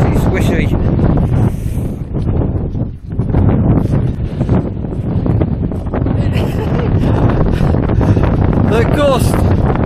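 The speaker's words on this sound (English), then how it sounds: "The gust is almost blowing us over." Strong wind gusts buffet the microphone out on open coastal marshland, a loud continuous roar with surging bursts and a brief lull, while people talk faintly beneath it.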